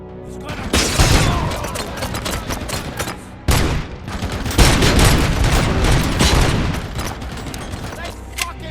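Heavy gunfire in the RoboCop Rogue City shooter game, loud overlapping volleys of shots and booms in uneven bursts, with voices shouting amid the shooting.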